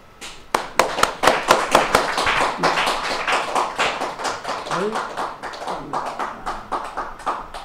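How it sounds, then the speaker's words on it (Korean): An audience at a free public lecture claps to welcome the speaker, sharp individual claps gathering into a rhythmic round of applause that gradually thins, with voices speaking over it. "뜨거운 박수로 환영해 주시기 바랍니다"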